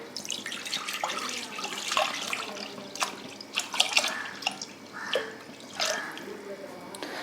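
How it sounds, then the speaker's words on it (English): About a liter of full-fat milk is poured into a pan, giving splashy, gurgling liquid sounds with scattered drips. "I have a pan over here, and to which I'm going to add around 1 liter of milk."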